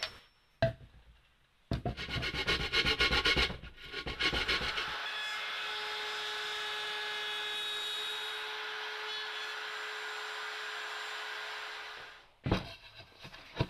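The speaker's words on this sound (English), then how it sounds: "trimming it down," Edge banding being trimmed flush on reclaimed plywood for a wall-mounted compartment bookshelf, heard as a few bursts of rough rasping and rubbing, then a long steady, fairly loud whirring tool run that stops abruptly, followed by a brief scrape.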